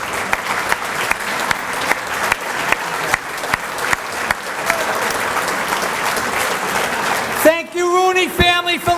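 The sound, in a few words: audience applause at hall of fame ceremony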